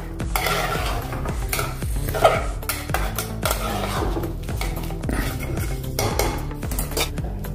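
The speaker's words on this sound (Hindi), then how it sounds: "अभी चावल को हम मिक्स कर लेंगे" Rice is stirred in a pot with a metal spoon, producing repeated scraping and clinking against the pot in an irregular rhythm over a soft sizzle, close and clear.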